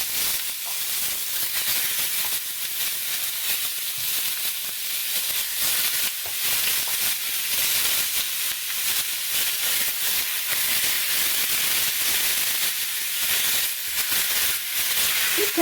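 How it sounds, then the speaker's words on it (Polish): Fatty pork shoulder sears fat side down in a hot, dry pan without oil, giving a continuous close, even hiss and sizzle throughout, with no talk. "Patelnia się ładnie już nagrzała tą stroną tłustą do spodu, najpierw bez oleju, bez oliwy."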